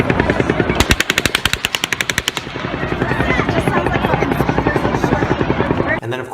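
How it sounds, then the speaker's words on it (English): Rapid bursts of repeated gunfire from what sounds like more than one gun, a loud fast string of cracks followed by dense continuous shooting that stops abruptly near the end. "there's clips out there where it sounds like there's more than one gun going off"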